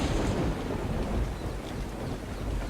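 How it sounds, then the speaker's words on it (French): Thunderstorm with steady heavy rain in the ARK survival video game, a dense continuous wash of rainfall with low rumbling thunder rolling underneath, no voices. "Quand il faisait orage ou qu'il se mettait à pleuvoir"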